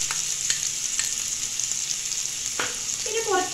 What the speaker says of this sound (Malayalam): പൊടി കൈയ്യോട്ട് കുറച്ച് ഉപ്പ് ഇട്ട് കൊടുത്തിട്ട് ഒന്ന് വഴറ്റുക